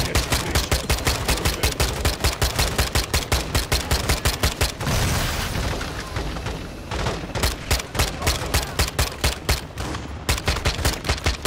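Intense automatic gunfire in the video game Modern Warfare II: loud, rapid bursts of rifle or machine-gun fire hammering almost continuously, with a brief roaring blast in the middle before the rapid firing resumes.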